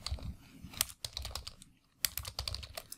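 Fingers typing code on a computer keyboard, irregular bursts of crisp key clicks with short pauses between runs, close and clear with no talking.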